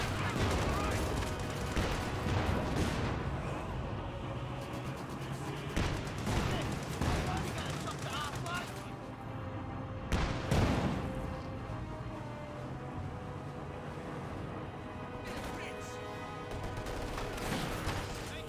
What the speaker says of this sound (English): Guards firing away behind some good heavy cover.